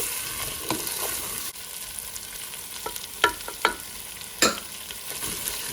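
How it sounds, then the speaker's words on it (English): Salted potatoes frying in a pan for a Punjabi aloo baingan sabji, with a steady close sizzle and scattered sharp scrapes and knocks as a spoon stirs them. "So I'm going to add the potatoes in, and I'm going to also add the salt in"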